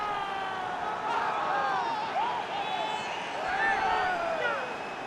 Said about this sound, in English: The crowd have gone crazy, and quite rightly so.